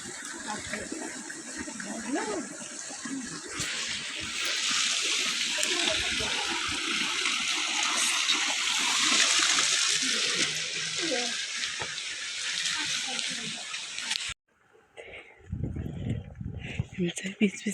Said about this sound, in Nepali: यो चाहिँ ढुङ्गे धारा हो।